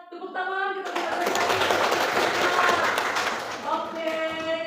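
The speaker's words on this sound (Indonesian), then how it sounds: "Tepuk tangan kita berikan" A classroom of children claps together in a dense, lively burst of applause lasting several seconds, with young voices chattering just before and as it fades.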